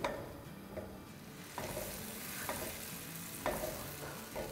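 Vegetables fry in butter in a pan over a medium-high flame, a steady sizzle broken by several scraping stirs of a spoon, close and moderately loud with no talking.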